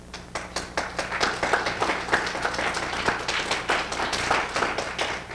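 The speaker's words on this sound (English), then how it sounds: "let's try to not to have too much clapping" A room full of people claps at a city council meeting in Danbury, a dense, sustained round of applause that holds at an even level throughout with no talk over it.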